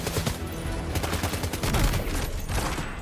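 Gunfire in the video game Death Stranding 2 comes in rapid, dense bursts of shots that overlap into a continuous loud volley, with no talk over it.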